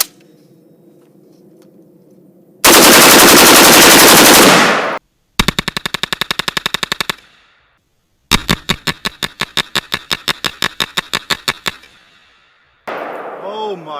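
Rapid bursts of 20 rounds from an Adams Arms Small Frame .308 piston-driven patrol rifle, loud and close, heard as a long continuous roar followed by distinct rhythmic strings of shots with brief pauses between.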